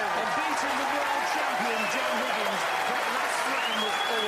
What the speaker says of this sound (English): A stunning ovation from the crowd, Ken.